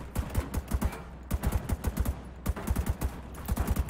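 Gunfire in The Division 2 video game, rapid bursts of automatic shots in quick clusters with short pauses between them, steady and moderately loud, with no talking.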